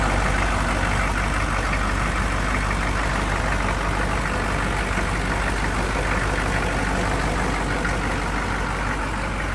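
A 6.5 liter turbo diesel idles steadily in a 1993 Chevrolet Silverado 3500 one-ton crew cab dually 4x4, with a constant loud rumble and faint knocking clatter close by, with no voices.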